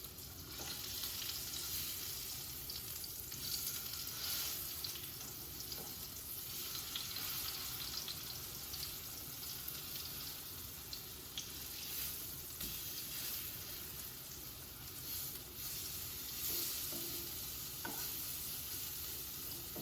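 Superfood patties sizzle in a hot pan with a steady, continuous frying hiss and faint crackles throughout. No one speaks.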